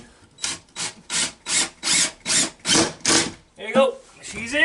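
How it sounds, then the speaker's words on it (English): A power drill bores a pilot hole into a wall in a series of about eight rhythmic, evenly spaced bursts close by, and a voice then speaks briefly at the end. "I'm going to put a pilot hole in this one because I only have 7 screws"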